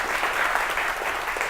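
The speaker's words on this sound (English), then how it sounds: "a huge round of applause for the other speakers" An indoor audience claps at an event honoring speakers, dense steady applause filling the whole stretch at moderate loudness.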